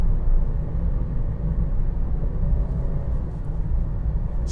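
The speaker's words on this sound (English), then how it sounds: "Let us just try a downshift." A 2018 Honda Jazz engine drones steadily from inside the cabin during a gear downshift, a low continuous hum with road rumble and no obvious jolt or rev spike, alone without talk.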